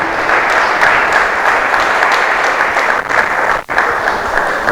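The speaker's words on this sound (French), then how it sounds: "Est-ce qu'on peut bien applaudir pendant que les professeurs arrivent?" Gala audience at a Congolese soirée claps continuously as professors arrive, loud, dense applause holding steady with a brief dip near the end.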